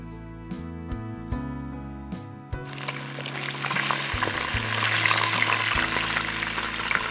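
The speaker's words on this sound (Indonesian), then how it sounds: "lalu kita masukkan ikannya, kita goreng sampai betul-betul ikannya mateng sesuai selera ya" Gourami fish dropped into hot oil, a loud crackling sizzle bursting in and continuing steadily after a few seconds of background music, with no voices.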